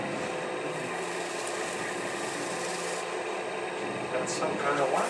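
Yorkshire grit polishing compound, a wax-and-abrasive paste, rubbed onto a spinning wood inlay platter on a lathe, giving a steady close rasping friction hiss that swells slightly louder near the end.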